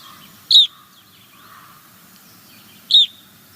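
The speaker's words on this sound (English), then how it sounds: "here is type 3, which is a much more ringing, some people would say kind of sleigh bell sounding bird" A winter finch gives two separate type 3 calls, each a short, bright, ringing note like a sleigh bell, spaced a couple of seconds apart against a quiet background.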